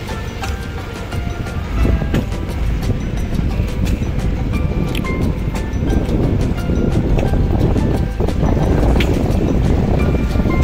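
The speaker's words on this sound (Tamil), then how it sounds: "மோட்டர் சவுண்டு கேட்குதுங்களா? போட்டோடைய மோட்டர் சவுண்டு அது." The motor of a Kerala houseboat on the Alappuzha backwaters keeps up a continuous low rumble and drone, with scattered light knocks and clatters on top, steady and fairly loud throughout.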